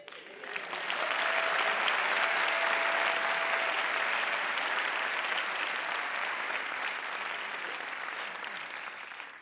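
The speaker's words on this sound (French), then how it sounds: "tu as vu les applaudissements?" A comedy show audience breaks into sustained applause that swells quickly and holds at an even, dense level before easing slightly near the end.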